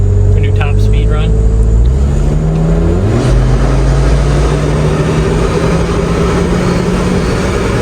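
Engine of a flood-damaged, junk Volvo 240 wagon droning loud and close from inside the car on a top speed run, its pitch climbing as it accelerates through a gear change, with road and wind roar and brief talk early on.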